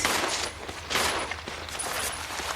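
Rapid, loud gunfire in the survival horror game Resident Evil Zero HD, a dense, unbroken volley of shots with no talk over it.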